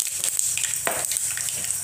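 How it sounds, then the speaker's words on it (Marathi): Cumin and mustard seeds frying in hot oil, a steady broadband sizzle with scattered small pops and crackles throughout, close and continuous with no talking. "तर जिरे मोहरे तळल्यानंतर"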